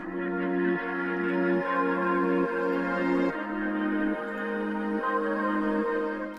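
A bright synth melody pitched up two semitones loops alone for a drill beat, its repeated notes stepping in a steady rhythm at a moderate volume.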